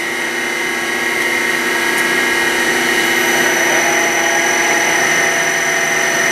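An Eldorado M75-15 twin spindle gun drill runs with a steady, loud machine whine and layered tonal hum, both spindles spinning at speed without pause.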